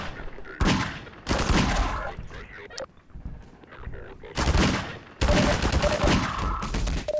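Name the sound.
magnum revolver gunfire in the video game Half-Life 2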